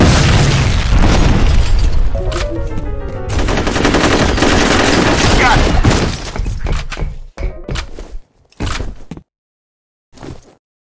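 FEAR combat bursts with heavy machine-gun fire and a booming grenade blast, loud and dense at first, then breaking into scattered single shots and thuds that trail off into silence.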